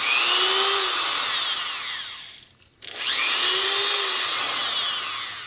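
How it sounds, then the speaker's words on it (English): Repaired Dremel variable speed rotary tool running, a loud close whine that rises in pitch as it spins up, then winds down and stops briefly before starting and whining up again. "I got my little Dremel back online."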